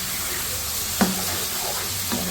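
Goat liver masala (kaleji) roasting in a pan, a steady close sizzle broken by two clear knocks of a spoon against the pan as it is stirred.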